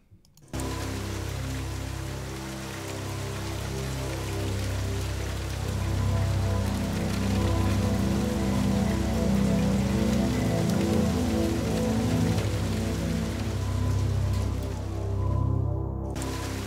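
Steady rain falling on a surface, a constant dense hiss that starts suddenly and holds at an even level throughout, with no voices.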